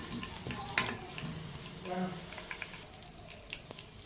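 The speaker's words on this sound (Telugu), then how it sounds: "వేసుకున్న తర్వాత ఇవి మంచిగా వేగాలి, గోల్డెన్ బ్రౌన్ వచ్చేంత వరకు వేయించుకోవాలి." Tempering spices for wheat rava upma frying in oil in a pan over a gas flame, a soft steady sizzle with occasional stirring scrapes and clinks, fairly faint throughout.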